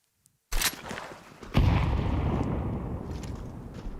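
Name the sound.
gunfire in Counter-Strike video game gun round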